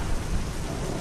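Dense rain pours in a steady, loud wash over a deep low rumble of thunder, with no voices.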